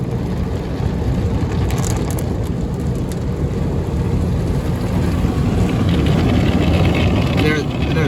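Automatic car wash in Mesa, Arizona, with brushes and water spraying over a vehicle, a dense continuous roar and hiss of spray and machinery filling the space, with a voice speaking over it at times.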